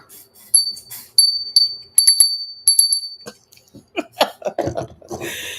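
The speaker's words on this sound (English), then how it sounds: "I should ring a bell" A small bell is rung in quick bright dings, several in succession, then gives way to soft clatter and rustling close by.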